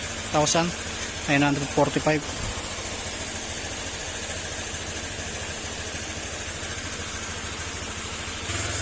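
A Honda Click 125 scooter engine, just rebuilt after a crankshaft overhaul, idles steadily while warming up, a low continuous drone with a voice speaking briefly near the start.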